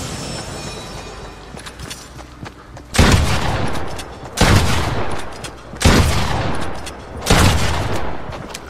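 Four heavy, booming shotgun blasts in Fortnite Battle Royale, spaced about a second and a half apart, each loud and close with a short rumbling tail over a steady game background.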